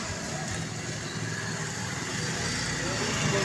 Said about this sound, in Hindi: ये देखो तूफ़ान, बहुत ज़्यादा तूफ़ान।